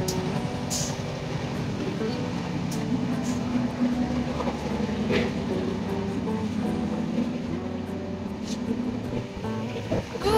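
A train rolls along the rails at night with a steady low rumble and faint rhythmic clatter, occasional sharp clicks and squeaks, continuous throughout.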